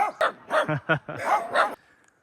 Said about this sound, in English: Bunch of wiener dogs.